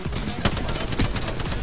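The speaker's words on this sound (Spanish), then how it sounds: "Escucho disparos a la izquierda." Rapid gunfire in a video game crackles in a dense, continuous volley, with one sharper shot standing out, loud and close throughout the short stretch.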